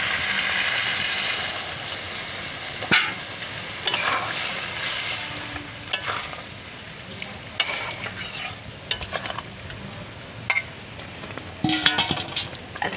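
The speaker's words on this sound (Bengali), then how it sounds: "এবার জল দেবো আমি।" Water goes into a kadai of simmering desi chicken curry, giving a continuous sizzling, bubbling wash with scattered clinks of a utensil against the pan, steady and close.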